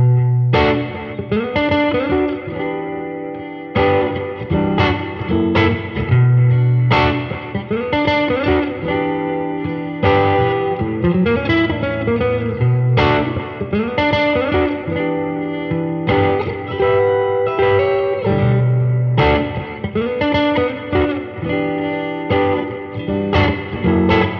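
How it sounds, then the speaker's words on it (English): An electric guitar through a drive pedal into a Supro Keeley Custom 10 amplifier, with delay and reverb pedals in the effects loop, plays chords and picked lines, notes trailing in echoing repeats and spacious reverb, loud and up close. "now I'm going to put a drive pedal through the main input and then a delay and reverb pedal"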